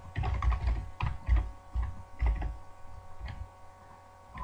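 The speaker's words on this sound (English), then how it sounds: "Let me just type it in and then I'll explain it." Quick bursts of clicking keystrokes on a computer keyboard, close and clear, tapering off into a few scattered taps with no talking.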